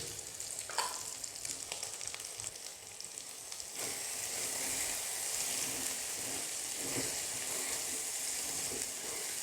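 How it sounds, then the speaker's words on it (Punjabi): Punjabi-style onion chutney mixture with fenugreek seeds, Kashmiri red chilli and salt roasts in a pan, sizzling and crackling steadily up close with occasional stirring scrapes, the frying growing louder and fuller partway through. "ਅੱਛੀ ਤਰ੍ਹਾਂ ਇਹਨੂੰ ਭੁੰਨਣਾ ਹੈ।"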